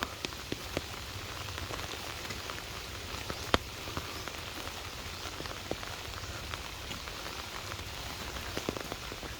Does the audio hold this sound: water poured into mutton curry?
no